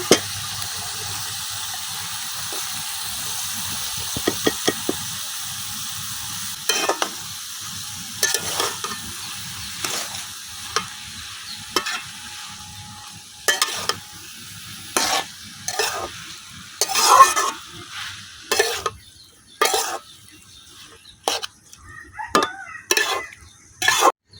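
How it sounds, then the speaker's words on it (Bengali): Radish greens are stirred and tossed with spices in a hot wok, with a spatula scraping and clanking against the metal in irregular bursts over a soft sizzle. "এখানে আমি মূলা শাকের সাথে কিন্তু মশলার আর খুব ভালোভাবে মিশিয়ে নিতেছি"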